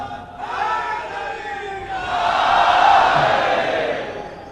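A large crowd at a religious majlis gathering shouts slogans together in unison, the massed voices swelling louder midway and then easing off, loud and close.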